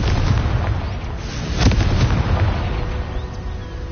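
Confringo fire spell blasting in Hogwarts Legacy, a loud rumbling explosion with a sharp crack midway, continuous booming low roar that slowly fades without speech.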